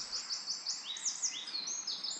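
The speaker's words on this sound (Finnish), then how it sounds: "Kovasti kuuluu lintujen ääniä tuolta kuusikostakin." Birds singing in a spruce forest, a steady run of high, clear chirps and rising and falling whistled phrases that overlap one another close by, with no talking.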